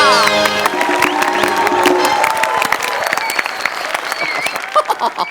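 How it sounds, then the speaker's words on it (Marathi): Loud applause and cheering from a school gathering of students and parents, close and dense at first, then thinning into scattered claps, with a voice heard over the start. "जोरदार टाळ्या"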